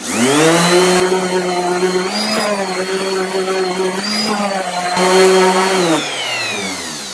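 A planer runs over a glued-up maple blank being prepared for a large vase, its motor giving a loud, steady whine that bends in pitch as the cut loads and eases. It runs close and continuous for about seven seconds.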